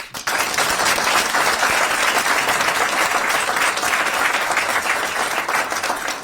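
Sustained, loud audience applause at a North Carolina economic development announcement in Wake County, a dense wash of clapping from a large crowd that starts abruptly and holds steady throughout.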